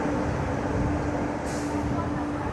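The 22136 Renigunta–Mysuru weekly superfast express departs Jolarpettai Junction, heard from inside the train as a steady, loud rolling rumble with a faint high hiss midway.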